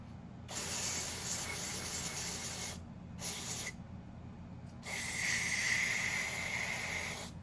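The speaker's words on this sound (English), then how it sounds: "don't spray this near the car" Three bursts of hissing aerosol cleaner spray in the engine bay of a 2011 Toyota Corolla, close and fairly loud, the first long, the second short, the third long with a steadier hiss, separated by brief pauses.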